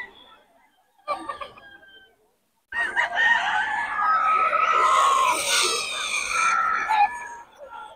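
A rooster crows loudly and close at a Bocaue weekend market where pullets are sold, one long strained crow following a brief earlier call, with faint background noise between.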